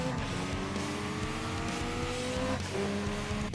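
Car engine in the Tokyo Xtreme Racer (2025) street racing game, an SX driven against a rival on a Tokyo highway, holding a steady loud drone with rising pitch, brief tire noise and a shift around the middle, with no talking.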